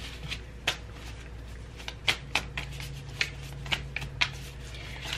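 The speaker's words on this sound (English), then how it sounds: "Hold on, I'm going to shuffle again." Cards being shuffled in quick riffling bursts, a series of sharp crisp flicks spaced irregularly over a low steady background hum.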